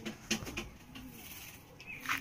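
White Jiria Madrasi pigeons in a home loft in Howrah, a few soft coos and faint fluttering close by, with quiet scuffling between the calls.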